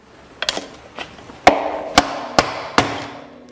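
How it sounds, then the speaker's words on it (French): A flat screwdriver is struck against the metal edges of a sealed ball bearing to drive it out, giving seven or eight sharp, close metallic taps at a slow, uneven rhythm with no talk. "Avec un tournevis plat, on va venir frapper sur les bords métalliques du roulement pour le faire"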